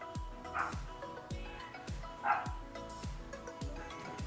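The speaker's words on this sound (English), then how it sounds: "dog barking." A dog barks in a steady repeated rhythm, about eight sharp barks spaced evenly, moderately close and loud, with no talk over it.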